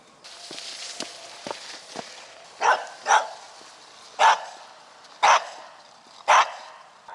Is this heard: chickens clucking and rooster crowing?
no